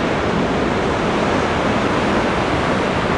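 Ocean surf along the Anglet shore, with waves around 1.5 to 2 metres from a long west-northwest swell, comes through as a steady, broadband roar of breaking water and wind, constant and fairly loud throughout.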